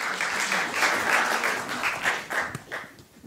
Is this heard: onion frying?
no